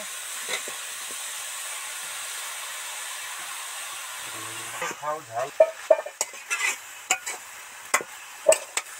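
A hissing pan of oil, then loud irregular scrapes and clanks as banana flower is stir-fried, the sizzle continuing under the stirring.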